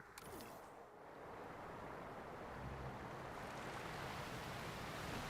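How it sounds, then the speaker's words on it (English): Steady rushing waterfall in Jurassic World Evolution 3, a continuous broadband wash of falling water that holds loud and even throughout with no pauses. "Added nice sound effects to the waterfall as well."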